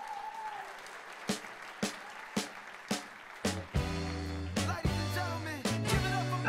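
Scattered, fairly close handclaps greet performers Patrick and Mateo at a community arts showcase, then a deep bass-heavy musical passage starts up and carries on under the last few claps.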